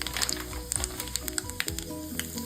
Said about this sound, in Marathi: मी ते तेल गरम करून घेतले आहे थोडी मोहरी घातली आहे जिरे घातले आहे थोडी तीळ पण आपण घालणार आहोत